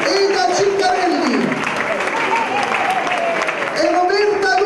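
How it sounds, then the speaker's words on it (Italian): A crowd applauds the mayor at a Miss Patata pageant in the Italian village of Pizzoferrato, brief steady clapping under a presenter's voice that keeps talking over it. "un applauso per lui"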